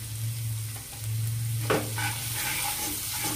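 Kashmiri chilli powder, turmeric and salt frying in a pan for prawn malai curry, a steady close sizzle with occasional stirring scrapes.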